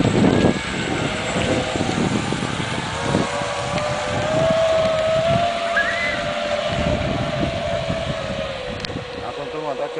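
A prototype RC catamaran's electric motor whines at full throttle across open water, a steady rising tone with water and wind noise beneath, while people talk nearby throughout.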